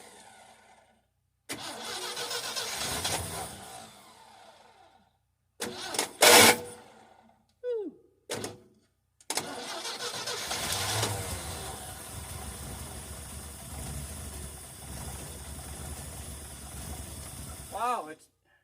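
An abandoned 1967 GMC truck, parked 27 years with a leaking carburetor, cranks in several short bursts, then catches and idles unevenly, loud and close, with a hissing leak and brief talk between attempts.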